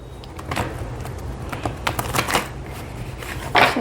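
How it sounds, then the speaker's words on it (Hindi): Tarot cards are shuffled by hand at close range, giving a run of quick papery riffles and soft slaps with a brisk burst near the end. "कार्ड्स को अच्छे से सफल करेंगे ताकि एनर्जीज काफ़ी अच्छी रहें।"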